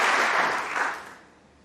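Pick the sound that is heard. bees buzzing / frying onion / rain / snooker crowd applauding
snooker crowd applauding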